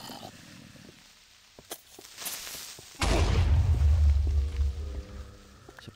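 A Minecraft creeper exploding in a cave, with a sudden heavy booming blast that rumbles loudly for about two seconds after quieter thumps and a brief shout, then fades.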